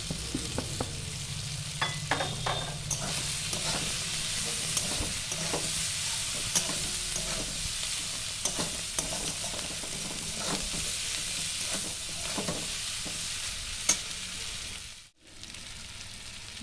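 Boiled pasta and chopped coriander being stir-fried in a pan, a steady sizzle with repeated scraping and clinking of the spatula, close and continuous, no one talking.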